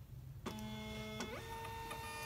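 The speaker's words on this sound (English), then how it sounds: "printing out the last label" A Dymo label printer prints a shipping label with a sharp start, then a steady whirring motor whine that shifts pitch partway through. The printer is close and clear against a quiet room.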